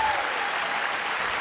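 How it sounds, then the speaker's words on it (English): An audience at a school district convocation gives a big round of applause for moms and grandmas, a loud, dense, steady roar of many clapping hands filling the hall without a break. "Let's give moms and grandmas a big hand clap."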